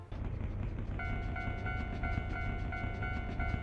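Japanese-style railroad crossing bell from the Super Mario 64 video game dings in a rapid, regular two-tone pattern over a low hum, fairly quiet and steady.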